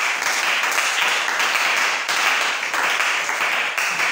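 A church congregation applauds steadily and loudly in praise, a dense, continuous wash of many hands clapping with no break.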